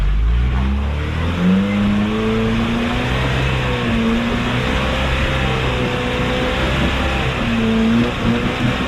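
1986 Toyota pickup truck, three-link with dual transfer cases, wheeling off-road with its engine revving and droning steadily at close range, pitch rising and falling over a low rumble, no talk.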